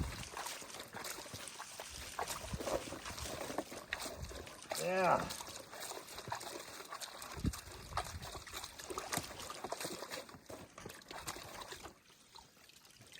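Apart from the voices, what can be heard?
water splashing through a gold sluice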